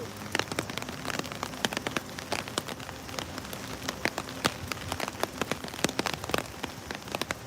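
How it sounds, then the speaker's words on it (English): Typhoon rain patters steadily on a surface outside a stadium in Tokyo, with scattered sharper drops ticking close by against the continuous wash. "the sound of rain is making Michael sleepy"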